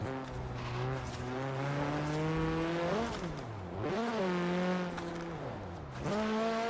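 A small drift-built Mini in the racing game Forza revs hard: a loud engine note climbs steadily in pitch, dips sharply near the middle and again near the end, then winds back up, with a faint tire-squeal edge.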